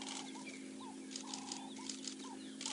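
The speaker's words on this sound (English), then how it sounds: "They're going proop, proop, proop, proop, proop, which is the ring-necked dove, or the Cape turtle dove it used to be known as." A ring-necked dove, also called a Cape turtle dove, repeats short soft cooing calls in a steady series on a peaceful African safari morning, with other small birds chirping faintly around it.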